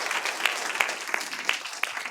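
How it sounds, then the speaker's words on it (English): Audience applause for a panelist at a discussion panel, a moderate, even patter of many hands, with a few louder individual claps standing out at regular intervals. "Another round of applause, please,"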